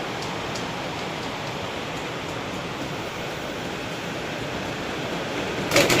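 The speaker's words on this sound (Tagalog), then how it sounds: "Ayan na nga ang ulan. Napumpisa na. Lakas na naman." Dense, steady hiss of heavy rain pouring down without pause, a broad wash of sound that swells slightly at the end.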